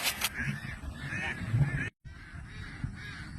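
Ducks honk and quack in a farmyard flock being herded and pastured in the province, a dense overlapping chorus that cuts out briefly midway and then resumes more faintly.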